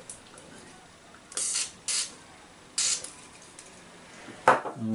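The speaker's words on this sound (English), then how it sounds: "Should we try and get our magic deoxid spray out, put some in the sockets at the back" Short hissing bursts of deoxidising contact spray are puffed into the rear sockets of a Yamaha DX11 synthesizer, several quick squirts up close, followed by a faint click of handling.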